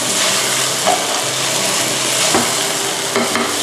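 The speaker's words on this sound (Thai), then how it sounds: "ผัดให้น้ำพริกแกงเคลือบอยู่บนตัวปลาดุกให้ทั่วนะคะ" Fried catfish being dry stir-fried with red curry paste, a steady loud sizzle throughout with occasional scraping of the spatula against the pan, no talking.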